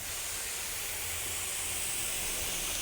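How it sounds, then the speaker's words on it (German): Adhesive spray system misting glue onto a shoe insole: a steady, fine hiss of even spray lasting throughout, fairly quiet and alone with no voices. "ich fange kurz vor dem Werkstück an und sprühe dann rüber"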